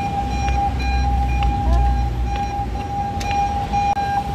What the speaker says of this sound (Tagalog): Ay, traffic. Congested na yung daan.